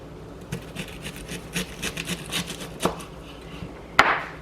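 An onion is sliced into small pieces with a knife on a board for a broccoli salad, a run of quiet, irregular cutting taps ending in one sharper knock.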